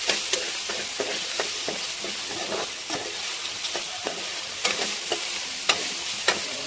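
Boiled pasta and soya chunks fry in a pan with tomato and onion, a bright continuous sizzle broken by regular stirring scrapes, close and with no voices.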